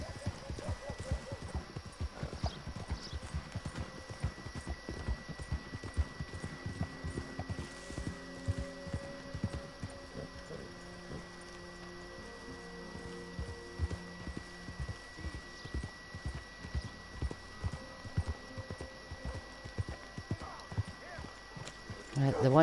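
Horse hooves pound rhythmically in Red Dead Redemption, a steady gallop running under frequent talk, with faint game music and whinnies mixed in before the pace shifts near the end.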